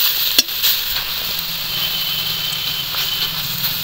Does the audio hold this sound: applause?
no